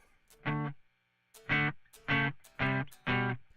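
Distorted electric guitar chords strummed in five short bursts with small gaps between them, dry and close with no reverb tail.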